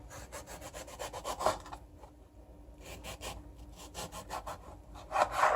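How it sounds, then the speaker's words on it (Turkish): A knife slices tomatoes into round slices, giving a series of soft, close cutting strokes in quick bursts with short pauses between them. "bu şekilde yuvarlak yuvarlak kesiyorum"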